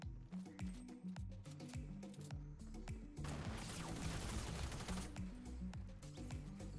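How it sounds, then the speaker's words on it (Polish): Fortnite gunfire crackles from behind in a dense, busy game mix, with rapid shots and impacts building into a heavier burst midway, steady and moderately loud throughout. "Z tyłu strzelają."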